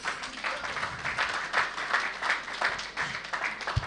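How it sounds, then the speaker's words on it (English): A townhall audience applauds a speaker, with a dense, sustained patter of many hands clapping at moderate distance and a faint murmur underneath. "Please, a round of applause for him."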